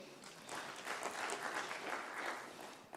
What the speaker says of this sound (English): as he comes, you can clap for him